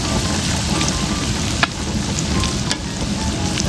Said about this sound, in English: let that fish fry on up in that bacon fat